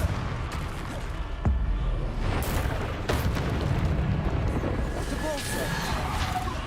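A Bombarda blasting spell goes off in Hogwarts Legacy, producing several booming bursts and crackling blasts over dense game noise, with a voice speaking throughout.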